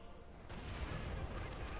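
A burst of gunfire crackles from a Panzer gunner in Company of Heroes 2, a dense, rattling volley of shots that continues steadily with low booms underneath.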